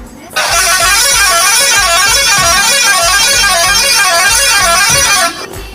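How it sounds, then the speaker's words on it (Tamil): Second horn option on a bus in Bus Simulator Indonesia, a loud, steady multi-tone musical bus horn sounding continuously for about five seconds before cutting off. "செகண்ட் ஹாரன் வந்து இதான் கொடுத்துருக்காங்க,"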